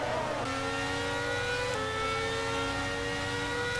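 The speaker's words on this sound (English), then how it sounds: "you can see though that Audi engine of Alonso is just going to waltz past" Formula 1 racing car engines in a video game, including an Audi power unit, whine at high pitch and shift through gears in a steady, loud drone with no talking.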